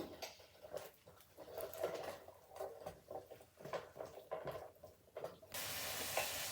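Thinly sliced onion and three chillies fry in olive oil in a pan. A steady, fairly quiet sizzle crackles and patters throughout, with a brief brighter hiss near the end and no voices.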